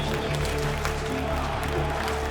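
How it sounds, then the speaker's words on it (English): Large arena crowd at an esports tournament winners bracket final roaring with steady cheering and applause, a dense continuous wash of noise throughout. "The crowds were all cheering for them"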